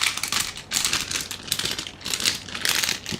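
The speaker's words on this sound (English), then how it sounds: "I'm just gonna make some rustling noise and rip these other bags open" Plastic bags being handled in bursts of crinkly rustling and tearing, with several separate rips and crumples following one another at close range and no talk over them.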